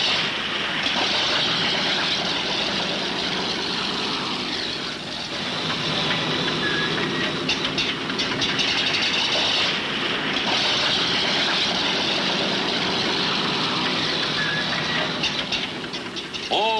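Six piston engines of a Consolidated B-36 bomber revving up before takeoff, a steady broadband roar with hiss that continues unbroken throughout; loud and continuous, with no talking.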